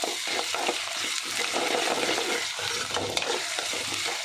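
Ginger garlic paste added to a hot pan of frying vegetables for a ridge gourd curry, a steady close sizzle with scraping stirring strokes running throughout and no voices.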